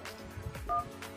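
Phone keypad dialing tones on a mobile handset, a single short beep tone, quiet and brief, heard alone.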